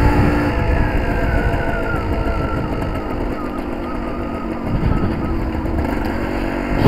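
Suzuki TS185 motorcycle on an evening road test after a carburetor jet change, its engine droning continuously with slight rises and falls in revs, steady and close throughout.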